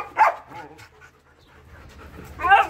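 A Malinois puppy gives short, sharp barks on command, two bursts at the start and end, with panting in between, close to the microphone.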